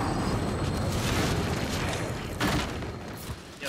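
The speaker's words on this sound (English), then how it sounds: "and send a grenade." A grenade explosion in Gears 5 multiplayer, a sustained rumbling, crackling blast that fills the scene with heavy low noise and a sharper burst near the end.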